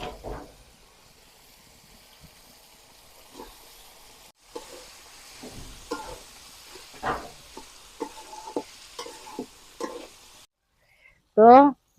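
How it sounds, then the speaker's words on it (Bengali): Beef tripe fries in a pan with salt and chili powder, giving a low sizzle with irregular stirring clatters and scrapes, then a brief louder burst near the end. "তো ভুড়িটা আমার সুন্দর করে ভাজা হয়ে গেছে"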